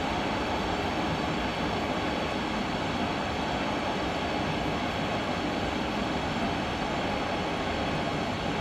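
An ICE 3 high-speed train in Train Simulator 2016 runs with an unbroken, even broadband rush and hum, fairly quiet and steady, with no distinct events standing out.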